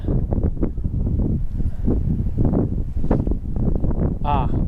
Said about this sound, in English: It is such a strong wind that my targets have fallen over before I can get to them.